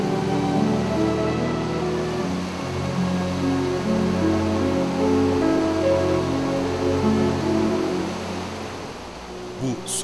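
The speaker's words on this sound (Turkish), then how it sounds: "Çok kola ayrılarak yoluna devam eden Fırtına Deresi, vadinin hayat kaynağıdır." The Fırtına Deresi mountain stream rushes through its valley in a continuous broad wash of flowing water, steady and close, beneath music and a narrating voice.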